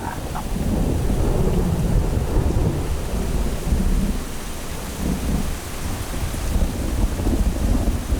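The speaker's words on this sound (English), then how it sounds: "The animals of the Great Plain prepare for torrential rain and spend hours soaking it up." Torrential rain pours steadily across the savanna while thunder rumbles low and heavy, a loud, continuous wash of rainfall with rolling booms and no voices.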